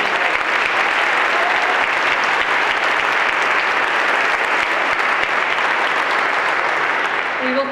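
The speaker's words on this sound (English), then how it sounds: "I hope you can hear our gratitude with our applause." A university Veterans Day audience applauds a marching band in a large crowd, giving a loud, sustained, even wash of clapping that holds steady throughout and fades slightly at the end.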